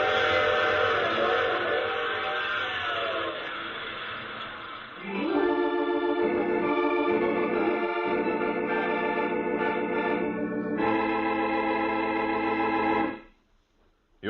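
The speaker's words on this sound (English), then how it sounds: "I take this same train every week at this same time." A train with a wailing whistle in an old-time radio mystery drama: a long, loud whistle blast sustained alone over a rumbling train, its pitch shifting partway through before it cuts off abruptly.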